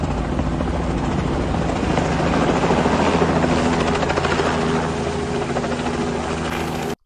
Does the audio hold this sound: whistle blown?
no